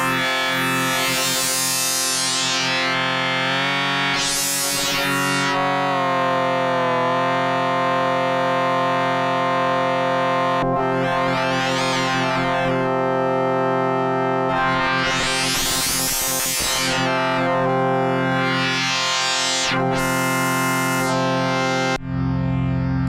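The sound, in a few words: phase distortion synth sound in Elastic OSC iOS app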